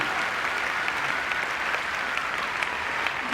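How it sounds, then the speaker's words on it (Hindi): Sustained audience applause at a business success seminar fills the room, a dense, steady wash of clapping that holds at even loudness throughout with no voices breaking through. "जोरदार तालियां दीजिए brand new double diamond lady Sunita के लिए"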